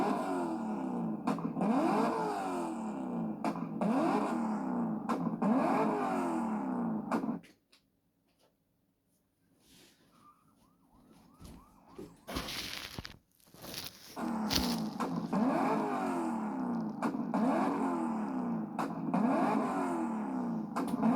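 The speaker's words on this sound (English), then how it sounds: "The first time I heard this car, it blew my eardrums out." A Corvette engine revs hard in repeated rising and falling bursts, loud and close, drops out to near silence midway, then returns with the same rhythmic revving.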